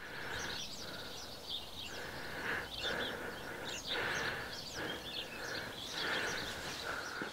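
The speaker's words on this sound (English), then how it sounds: "It's amazing how many bird sounds you can hear right now." Wild birds sing and chirp repeatedly in open countryside near Lippija Tower, Mgarr, Malta, faint and fairly distant over a quiet outdoor background.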